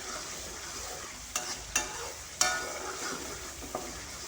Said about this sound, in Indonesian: Ini teman-teman, kita oseng-oseng juga ya.